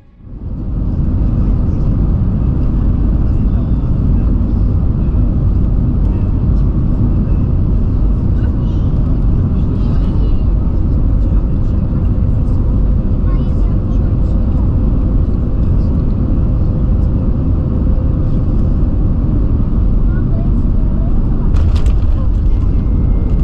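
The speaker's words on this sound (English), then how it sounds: "now we can look at and listen to the landing here at the airport" Passenger airplane landing at Frankfurt airport, heard from inside the cabin: a loud, steady engine and airflow roar rumbles continuously throughout, with a brief rise of clatter near the end.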